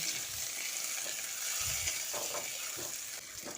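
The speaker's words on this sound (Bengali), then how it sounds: "টমেটোগুলো দিয়ে পেঁয়াজের সঙ্গে ভালো করে মিশিয়ে নিচ্ছি" Whole tomatoes being stirred with onions in hot oil, a soft continuous sizzle with intermittent scraping and thudding strokes of a spoon in the pan, close and fairly quiet.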